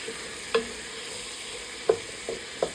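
Ingredients for a vegetarian chili are stirred in a pan under a low background sizzle, with a few distinct utensil clinks and taps against the pan spaced irregularly.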